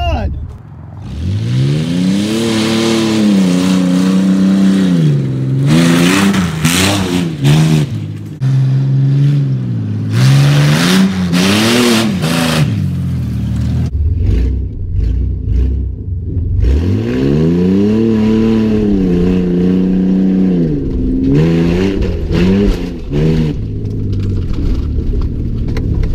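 A motorcycle engine revs hard again and again in long rising and falling sweeps, loud and close, while people talk excitedly over the roar.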